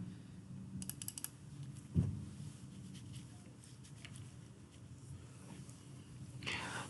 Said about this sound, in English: you have to type it up.